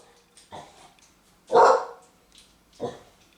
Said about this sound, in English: Sorry for my dog, start barking.